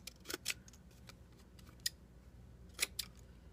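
Scissors snip through a piece of card for a handmade shaker card, a few crisp close cuts spaced apart in a quiet room.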